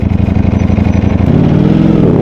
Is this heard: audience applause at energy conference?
no